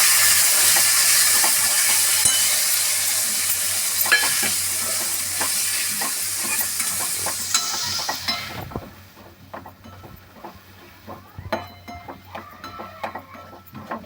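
Green peas sauté with spices in a hot pan, a dense sizzle under frequent scraping and clinking stirs, the hiss dropping sharply partway through while the stirring clatter continues on its own.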